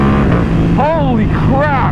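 A 2021 Ducati Panigale V2 twin-cylinder sport bike with a full Akrapovic exhaust revs hard and accelerates, its engine note climbing and falling in loud, close rising sweeps that stand alone with no talk.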